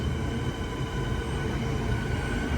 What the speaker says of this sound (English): for the last few trains leaving Sunbury